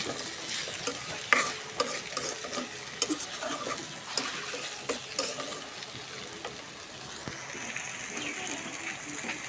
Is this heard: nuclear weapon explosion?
no